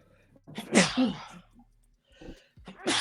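A loud, close sneeze with a sharp inhale and explosive burst, followed by a second shorter sneeze after a brief pause.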